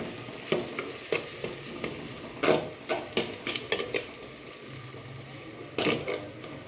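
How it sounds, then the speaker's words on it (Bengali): Garlic frying lightly in a pan over a lowered gas flame, a steady soft sizzle broken by several sharp scraping stirs of a utensil, close and moderately loud with no talk. "এই যে রসুনটা ভাজা হালকা করে হয়ে গেল"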